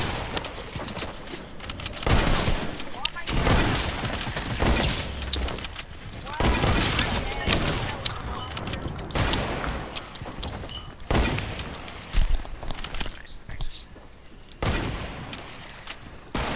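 Shotgun fire in a Fortnite match: repeated sharp loud blasts at irregular intervals mixed with other game gunfire and effects, with players talking over the shooting throughout.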